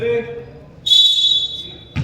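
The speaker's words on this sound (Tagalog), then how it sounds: "Pito." Referee's whistle blown once at a basketball game, a sustained shrill tone of about a second, heard amid crowd noise and a commentator's talk.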